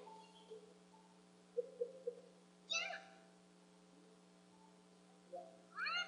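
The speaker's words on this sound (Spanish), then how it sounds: "¡Un gato! ¡O de los gatos!" A cat meows in Koumajou Densetsu II: a few short chirpy mews, then two louder, longer meows separated by quiet, all over a low steady background hum.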